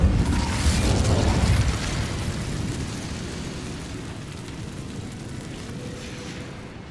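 An Incendio fire spell goes off in Hogwarts Legacy: a loud, close fiery burst and whoosh at the start, then a steady crackling roar that slowly fades over several seconds with no talk.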